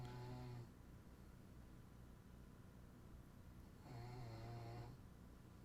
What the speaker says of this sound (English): I don't know if you can hear Flash snoring in the background right now